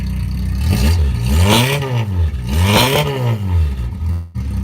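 A Rover car with a manual choke fires up and revs hard, the engine rising and falling in two strong, close vroom sweeps before settling briefly, loud and alone.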